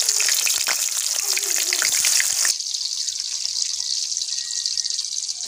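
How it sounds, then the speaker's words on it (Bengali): Leftover oil from frying chicken sizzles loudly in a wok as chopped onion goes in, with a bright crackle that eases to a softer, steady frying hiss. "মুরগি ভেজে রাখার যে তেলটা ছিল সেটা কড়াইয়ে দিয়ে দিলাম।"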